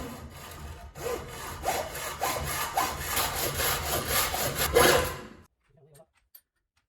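An aluminium bar is cut with a hand saw, steady rhythmic back-and-forth rasping strokes up close for about five seconds, then stopping with a couple of faint knocks and no talk.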